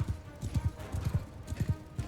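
A horse gallops in the video game Mount & Blade II Bannerlord. The hoofbeats come in quick, steady, thudding clusters, loud and close throughout.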